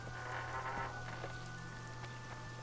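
Rain falls in the video game The Witcher 2: Assassins of Kings, a faint hiss of drops with a few soft taps over a steady low game hum.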